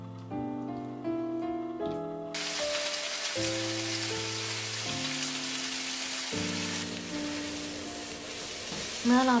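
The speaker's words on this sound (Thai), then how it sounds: "เมื่อเราทอด2ด้านนะคะสุกเรียบร้อยแล้ว" Tofu and ground pork hamburger patties fry in a pan with a steady, close, crackling sizzle that starts abruptly after a short plucked musical intro, while soft background music keeps playing over it.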